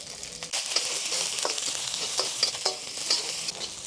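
Garlic and onions fry in soybean oil for a Chinese-style dry chicken dish, giving a steady, close sizzle broken by scattered crackles and pops from stirring.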